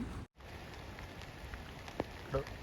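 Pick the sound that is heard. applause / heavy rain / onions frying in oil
heavy rain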